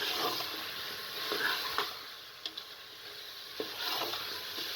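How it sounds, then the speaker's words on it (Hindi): Potatoes and tender meat fry in oil in a cooking pot for a spiced aloo gosht curry. A soft, steady sizzle runs throughout, broken by a handful of clicks and scrapes from stirring. No one speaks. "आलू डालकर तकरीबन 5 मिनट तक आपने अच्छे तरीके से फ्राई करना है"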